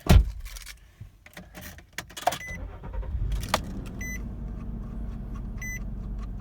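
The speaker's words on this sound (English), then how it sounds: "I'll get in and start it up here." A lifted 2008 Nissan Xterra 4x4 is entered with keys jingling and door clunks, then a short electronic chime before the engine catches and settles into a steady close idle.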